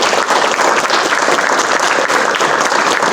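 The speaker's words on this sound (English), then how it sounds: "if you wouldn't mind giving our panelists one more round of applause." Audience applause for panelists closing a public meeting on transit and public health, a steady dense wash of many hands clapping close by, sustained and even for the full stretch with no talk over it.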